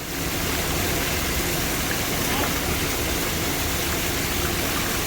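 Loud, continuous rush of turbulent falling water, a steady broadband roar with no pauses.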